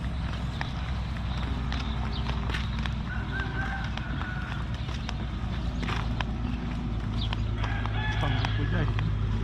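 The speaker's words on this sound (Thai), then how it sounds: "มีไก่ชนด้วยครับ" Fighting cocks on a farm crow repeatedly, their calls standing out over a steady rural background with some clucking and faint other farm noise throughout.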